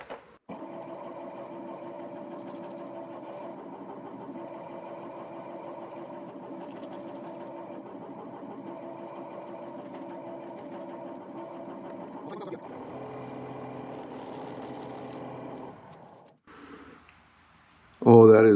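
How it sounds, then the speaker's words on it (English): A wood lathe spins a slightly off-balance natural edge spruce bowl at 750 RPM for buffing, a steady droning motor hum that shifts pitch partway through, then fades before a brief burst of sound at the end. "I'll buff this in, starting at 750 RPM, and this is still off balance enough that I can't get much faster than that."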